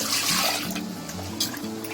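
A short, close splash and gurgle of water being poured out of a bowl for soaking sago, lasting only a moment.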